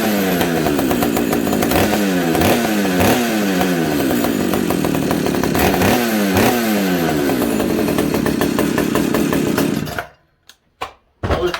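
Pioneer P61 chainsaw engine running a little rich, a loud, close two-stroke roar with repeated revving swells for about ten seconds, then cutting out abruptly into near silence with a couple of brief sputters.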